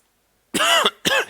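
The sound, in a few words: cough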